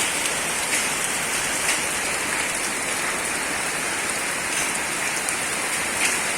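Hail falls hard on surfaces during a spring storm, a dense continuous hiss with scattered sharper impacts throughout and no voices.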